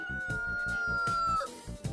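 A rooster crows in one long, sustained call over a steady rhythmic background pulse, fairly close and clear.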